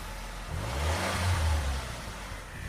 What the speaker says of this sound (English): hop in the car. Let's take a short run.